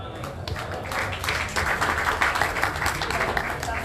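A crowd applauds the national campaign team secretary at an Indonesian political event, a steady wash of clapping that builds in the middle and carries on without a break.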